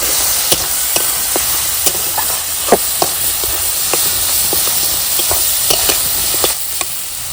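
A spiced mixture with turmeric and black pepper stirred in a hot pan, with loud steady sizzling and hiss and sharp spatula knocks every half second or so, close and without speech.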